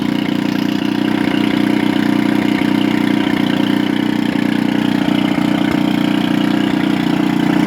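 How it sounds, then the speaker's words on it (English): A Briggs 205cc 6hp OHV horizontal small engine idling, a steady even drone held at close range for the whole stretch with no change in speed and no voices. "Looks like we got a running engine, folks."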